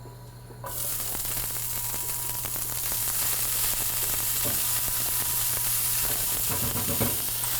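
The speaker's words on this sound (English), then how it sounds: "We're gonna go ahead and saute these just till they soften up a little bit." Onions sautéing in olive oil in a hot pan for Italian stuffed peppers burst into a loud, continuous, hissing sizzle after a quiet start, crackling steadily with no talk.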